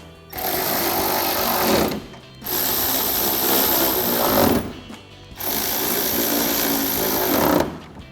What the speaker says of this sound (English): Next, we can grab our 8mm socket to tighten these all down.